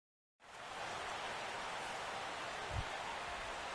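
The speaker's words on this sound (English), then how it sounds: "Rain continues to fall here in the 6th." Rain falls steadily in a baseball video game, a soft even hiss that starts abruptly and holds at a constant level, with one brief low thump partway through.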